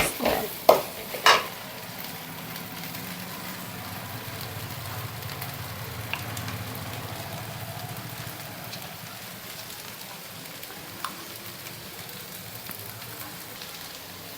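Spice powder stirred into frying okra gives a continuous, soft sizzle and crackle in a pan. A few sharp utensil knocks come at the start, then steady frying continues alone.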